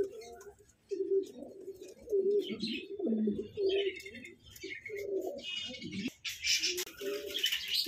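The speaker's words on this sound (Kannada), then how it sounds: "ನಾಟಿ ಪಾರಿವಾಳಗಳು ಇದೆ." Native pigeons at a pigeon farm coo in repeated low, throaty phrases close by, with lighter chirps and other bird calls overlapping toward the end.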